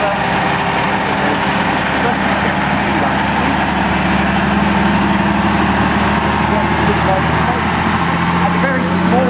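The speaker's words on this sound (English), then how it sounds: "Yeah, the AEC Regent now, and he's just got to run me over." An AEC Regent commercial vehicle at the Stoke Row steam rally rumbles steadily as it drives close past, its heavy low engine note continuous throughout amid crowd chatter and outdoor bustle.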